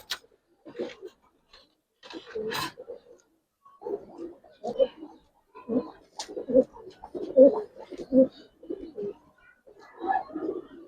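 Giribaz pigeons cooing nearby in soft, repeated low burbling calls, with someone speaking intermittently over them.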